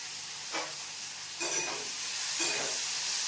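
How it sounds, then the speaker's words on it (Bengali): Potatoes, beans, carrots and onions fry in a pan with a steady hiss, broken by three louder spatula strokes spaced about a second apart. "সবজিগুলো কেটে ধুয়ে নিলাম, আলু, বিনস, গাজর, পেঁয়াজ, এবার ভেজে"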